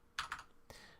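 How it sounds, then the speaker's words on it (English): A few quick keystrokes on a computer keyboard: a close double tap, then a single clack after a short pause, quiet and isolated with no talking. "So I'm typing prop, double tapping tab"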